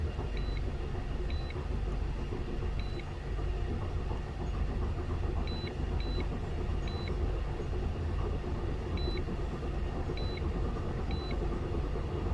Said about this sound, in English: Idles a little high, but it's not quite to operating temperature yet